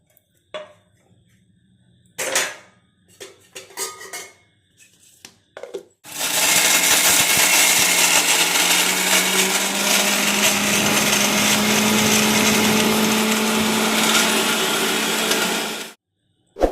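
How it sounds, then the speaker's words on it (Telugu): A kitchen mixer grinds peanuts, onion, green chilies and coconut into chutney, a loud continuous whirring roar running about ten seconds after a few short knocks and clatters, then stopping abruptly. "ఏర్చన గుళ్ళు, ఉల్లిపాయ, పచ్చిమిరకాయలు, కొబ్బరికాయ ఇవన్నీ కలిపేసి పచ్చడి చేసుకుందామండి"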